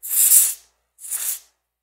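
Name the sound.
DeoxIT contact cleaner sprayed into keyboard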